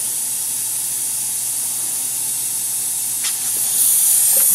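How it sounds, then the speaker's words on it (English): Compressed air hisses steadily from a compressor dryer's pop-off valve as it bleeds off air and water, a loud continuous spray that swells slightly near the end, with no talking. "this little pop off is just bleeding through"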